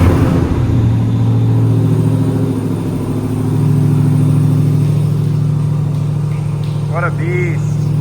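A Ram TRX pickup truck's engine rumbles with a deep, steady drone and swells in revs, close and loud, while people talk over it.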